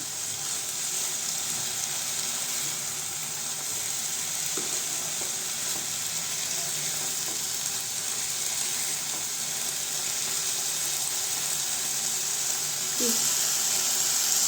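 Watermelon rind halwa simmers in sugar water in a pan, giving a continuous soft bubbling sizzle with occasional stirring clinks, steady and close.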